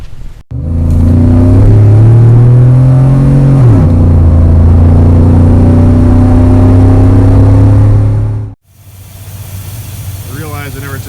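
Loud V8 engine of a 2002 Chevrolet Silverado fitted with Speed Engineering headers, revving up and holding high at full throttle for several seconds, then cutting off abruptly, followed by a quieter idle.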